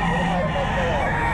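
Chickens at a bustling pet market in Bocaue give faint clucks and a crow-like call, mixed into a dense wash of crowd noise and traffic with people talking.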